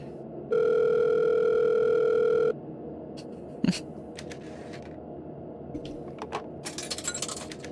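A telephone dial tone in the video game Dead Secret Circle holds steady for about two seconds, then stops. A sharp click follows, then soft handling noises and a burst of faint clattering.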